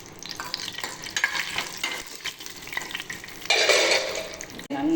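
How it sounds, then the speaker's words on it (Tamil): Cashew nuts fry in a spoonful of ghee in a small kadai, giving a soft, crackling sizzle broken by scraping stirs. A brighter, louder burst of frying comes near the end. "முந்திரி பருப்பு வறுத்தாச்சு"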